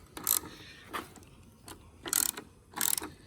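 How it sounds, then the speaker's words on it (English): A 10 mm ratchet clicks in four short, sharp bursts as it backs out a headlight bracket bolt on a Jeep Wrangler JLU, close and loud with brief pauses between each run of pawl clicks. "this is a 10 millimeter. So very gently, I'm gonna back this bracket out."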